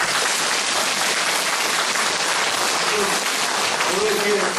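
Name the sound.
audience applause at a town-hall report meeting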